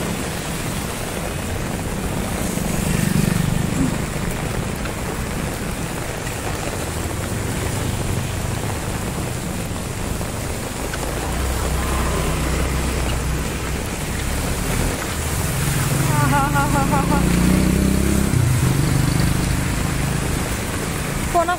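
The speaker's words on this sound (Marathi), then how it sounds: "आज पुण्यामध्ये दुपारपर्यंत कडक ऊन होतं ना, आता अचानक पाऊस आलेला आहे." Heavy afternoon rain pours down on a street in Viman Nagar, Pune, as a steady hiss. Low rumbles from passing vehicles swell and fade now and then, and a voice talks faintly beneath the downpour.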